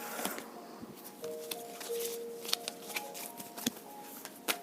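Psychic tarot oracle cards shuffled and riffled close up, a soft continuous papery rustle broken by sharp little snaps as cards flick, with a faint tonal hum behind and no one speaking.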